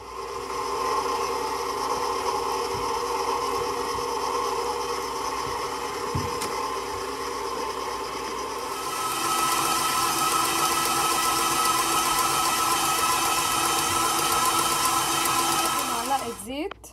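A kitchen stand mixer kneads pretzel dough made with egg and milk, a steady close whirring motor drone that grows louder and brighter about halfway through, with no talk over it.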